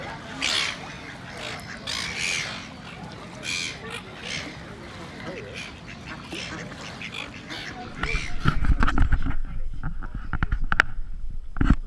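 Ducks quack and honk in a busy outdoor setting in New Zealand, with birdsong and people talking over them, and louder rumbling and movement joining near the end.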